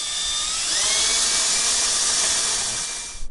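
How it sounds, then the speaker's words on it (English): A high-pitched power drill whirs steadily at full speed for a few seconds, then spins down and stops, loud and close, during work on a Honda Ruckus scooter with a GY6 engine. "So the clutch is on the drill."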